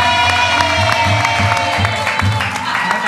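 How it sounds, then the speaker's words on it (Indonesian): Studio audience applause and cheering on a talk show, crowd clapping and excited voices beneath a steady rhythmic musical beat, loud and continuous. "Boleh tepuk tangannya dulu buat angka nomor 1"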